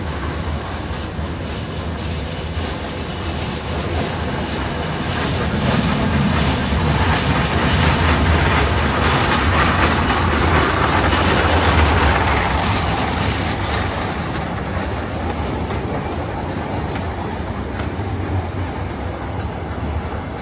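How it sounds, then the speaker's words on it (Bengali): A small children's ride train moves slowly on rails at Green Aranya Park in Bhaluka, Mymensingh, giving a continuous loud, close rumble with faint clattering that swells in the middle and then eases. "এই যে আস্তে আস্তে ট্রেন, সুন্দর সিস্টেমটা মেট্রো রেলের মতো আর কি দেখা যাচ্ছে।"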